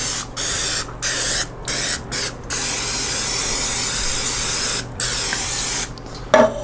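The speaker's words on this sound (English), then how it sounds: "Springform pan, spray oil, or you can just take butter if you have butter." Cooking spray oil hisses into a springform pan in several loud bursts of varying length, each with a sharp start and stop, close to the microphone and with no talk.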